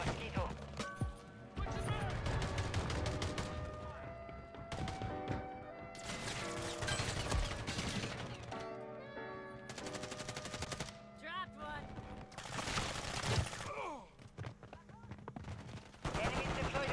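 Shotgun blasts in Modern Warfare 3, akimbo JAK Wardens firing slugs, loud repeated booming shots in rapid bursts separated by short pauses, mixed with game effects and someone talking.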